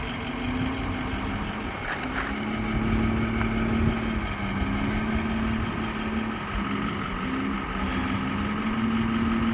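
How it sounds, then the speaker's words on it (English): A 2005 Ford F-350 pickup with a 6-liter engine idling, a steady low droning rumble with a constant hum, continuous and fairly close, with no voices. "2005 F-350 with a 6-liter"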